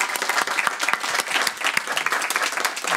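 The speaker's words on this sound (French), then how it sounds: "Je pense qu'on peut applaudir nos intervenantes." An audience at a tech conference on space exploration applauds, giving sustained, dense clapping with no speech over it.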